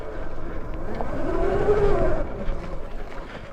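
A supercharged mini bike being ridden makes a close engine whine that swells to a peak and then eases off, over rumbling noise.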